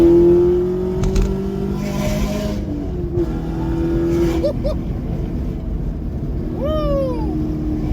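Camaro SS 1LE on Nankang AR-1 semi-slick tyres pulling hard in third gear, a steady loud engine drone with rising pitch beneath road noise, a brief tonal chirp near the end.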